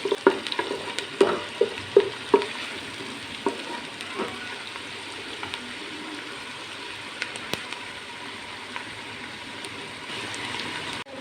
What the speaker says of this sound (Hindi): प्याज को हम लाइट फ्राई करेंगे।